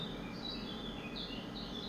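Recorded birdsong played back on a sunny day among many flowers and greenery gives faint, scattered high chirps and tweets over a low, quiet background hum, with no talking.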